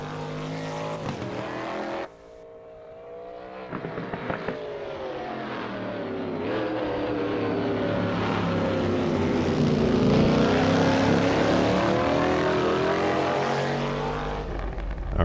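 Engine of the Mustard, a rear-wheel-drive classic car in the racing game Assetto Corsa, revving loudly and rising into a sustained roar after a brief dip near the start, with no talk.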